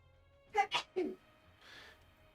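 A quick sneeze in a quiet home room, a sharp burst of a few short bursts followed by a softer breathy exhale, close and alone.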